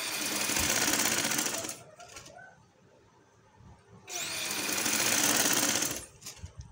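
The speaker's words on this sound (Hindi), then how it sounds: "यहाँ से हम सिलाई इसकी शुरू कर देंगे" A sewing machine stitching along a cut neck design, two loud buzzing runs of rapid needle action with a quiet pause between them, heard up close.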